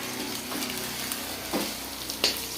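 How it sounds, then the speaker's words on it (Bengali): Rohu fish pieces frying in oil in a wok, a soft continuous sizzle with a few sharper spatters and occasional scraping, quiet and without talk. "একদম লাল লাল করে মাছটা ভেজে নিই।"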